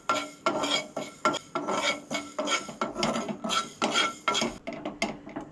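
Fenugreek seeds are stirred while roasting in a pan, giving a steady run of rhythmic scraping strokes, roughly two per second, each a gritty rasp with the seeds rattling, close and clear with no talking.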